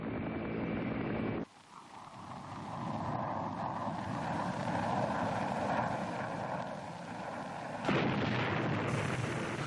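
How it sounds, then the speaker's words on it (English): Vietnam War fighter bombers and helicopter gunships roar over landing zones, a loud, sustained engine drone with rumbling blasts, broken by sharp cuts between passages. "Fighter bombers and helicopter gunships hammered the landing zones."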